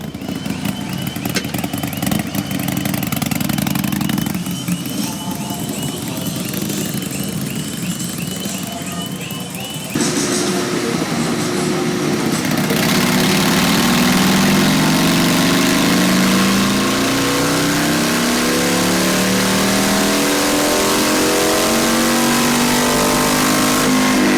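A stock versus Stage 1 Harley Davidson Sportster Iron 883 on a dyno, its engine idling and blipping loudly before rising into a sustained full-throttle rev that climbs steadily in pitch for several seconds.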